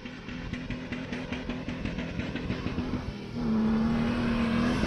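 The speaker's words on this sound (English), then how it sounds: "Come on, Joe, you're driving in a circle. Drift it." Chrysler Crossfire rally car driven in circles while drifting, its engine droning and revving steadily at a moderate distance, rising to a louder sustained pitch near the end, with no talking.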